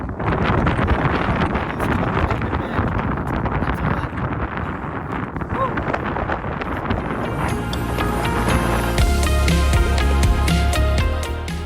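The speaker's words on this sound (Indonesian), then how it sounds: "Gemur angin sangat ribut, seakan suara terbawa jauh oleh angin." Strong wind roars across the summit of Mount Bawakaraeng, buffeting the microphone in a loud, continuous rush, with faint tonal sounds emerging late.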